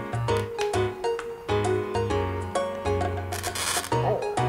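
A hand-held glass cutter drawn firmly across a sheet of glass, giving a series of short crackly scratching strokes with pauses between them, close and fairly quiet, under a steady low background hum.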